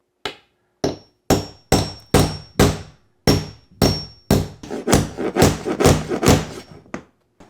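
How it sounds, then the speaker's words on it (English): A hammer strikes nails through a board into a wall about a dozen times, sharp close thuds that start spaced apart and speed into rapid blows. "I'm gonna hammer these nails right in so that they go through this board"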